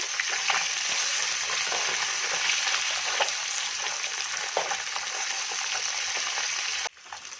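Koi fish sizzle in oil after being flipped, a constant loud crackle nearby with faint utensil ticks, cutting off abruptly near the end.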